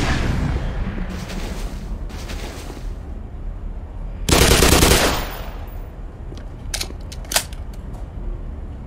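Gunfire during a firefight in the video game Black Mesa: a loud sustained burst of automatic fire in the middle, framed by scattered sharp single shots and crackling bursts over a rumbling background.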